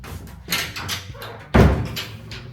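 A hotel room door in a beach resort opens with a handle rattle, then a heavier thump and creak midway, close and fairly loud.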